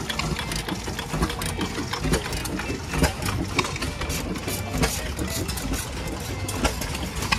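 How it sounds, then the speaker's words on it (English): Old tractor engines at a county fair run with steady rapid popping and chugging throughout, dense and fairly close amid the outdoor crowd, with some voices in the background. "Got engines up here popping. Beautiful machines."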